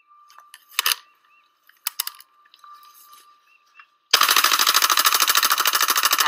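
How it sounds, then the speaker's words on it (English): Light clicks and metallic taps, then a sudden loud burst of rapid, evenly spaced automatic gunfire aimed at Bud Light cans in an open field, continuing for about two seconds. "That is him shooting Bud Light cans in an open field."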